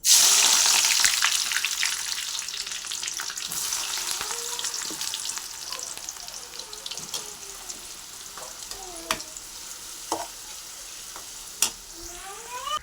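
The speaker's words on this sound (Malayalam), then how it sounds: "സവാള വറുക്കാനുള്ള ഇത് ചൂടായിരിക്കണം നമുക്ക് ഇട്ട് കൊടുക്കാം" Sliced onions frying in hot oil for a homemade beef dum biryani, giving a steady close sizzle with crackling and occasional stirring clinks, loudest at the start and easing slightly, with no talking.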